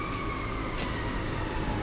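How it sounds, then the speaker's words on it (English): Faint sirens drone steadily in the distance behind a constant room hiss, with a couple of soft brushing noises close by. "Oh, there are sirens."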